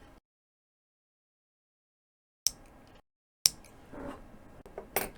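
Scissors trimming wicking cotton on a SMOK TFV8 RBA vape deck, a few sharp close snips separated by silence and soft handling sounds.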